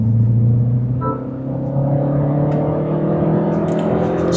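The turbocharged engine of a Mini convertible pulls steadily under acceleration, a close, sustained rising drone with a brief dip, heard from inside the car with no talking.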